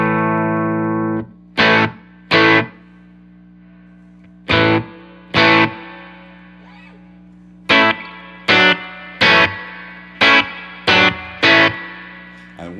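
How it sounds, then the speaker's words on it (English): Electric guitar played through spring reverb, with loud plucked chords and notes in bursts, the first ringing out and then a quick series of stabs, each leaving a splashy reverberant tail. "turn this reverb up a little bit so you can hear it."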